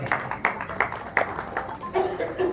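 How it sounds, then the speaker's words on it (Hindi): A group claps in a steady, evenly spaced rhythm to honour a media in-charge at a Mother's Day celebration, with faint talk and a brief voiced sound toward the end. "तालियों के साथ अभिनंदन करें इनका"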